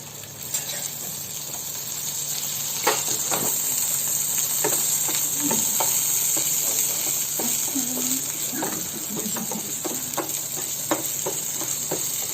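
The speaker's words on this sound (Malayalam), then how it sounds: "ആദ്യം നമ്മള് ഇഞ്ചിയും വെളുത്തുള്ളിയും പേസ്റ്റ് ഇടുവാണ് ഇങ്ങോട്ട്." Ginger garlic paste fries in hot oil for a prawn roast, giving a steady close sizzle and hiss with occasional spoon scrapes and stirring taps throughout.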